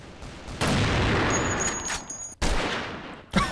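Desert Eagle pistol gunfire in the free-to-play multiplayer shooter KUBOOM: a few loud, close shots with booming tails and an echoing burst in between, no talking.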